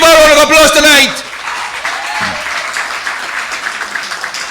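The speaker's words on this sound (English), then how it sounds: "Give her a round of applause tonight" Crowd applause at an outdoor political rally, starting under a loud amplified voice that cuts off after a second, then continuing as scattered, fairly distant clapping with faint background noise.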